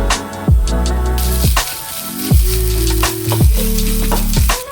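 Grated coconut with shallots and garlic sizzles steadily in hot oil, broken by repeated scraping stirs of a spoon against the pan.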